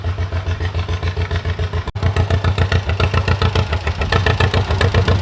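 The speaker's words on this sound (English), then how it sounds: "I think it might be a Massey Ferguson tractor with the International IH hit and miss on there." A Massey Ferguson tractor fitted with an International IH hit and miss engine runs at a harvest festival, with a loud, close, steady chugging beat and metallic clatter that continues without talking.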